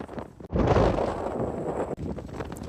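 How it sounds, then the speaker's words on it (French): Strong desert sandstorm wind gusting over open terrain on a long solo expedition, a loud sustained roar buffeting the microphone, with a brief lull near the middle before it picks up again. "nous affrontons ce vent de sable qui nous plonge dans un décor fermé, une sorte de blizzard du désert"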